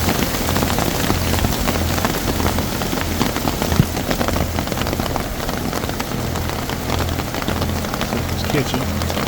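Heavy rain pours steadily onto surfaces and an umbrella at an outdoor fall festival in Duluth, a loud, continuous hiss with dense pattering throughout and a low rumble underneath.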